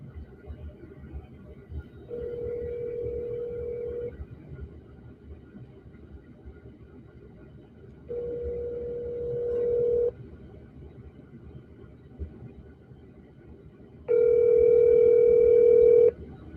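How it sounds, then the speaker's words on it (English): An outgoing phone call rings out to a cell phone, giving three long, steady ringback tones spaced evenly apart with quiet gaps between them, each one clear and close. "Okay, we're going to give him a call."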